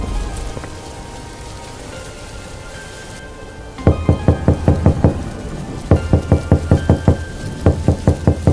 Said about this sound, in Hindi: केकर किस्मत फूटल बारे जे दरवाजा इतना जोर जोर से खटखटा रहल बा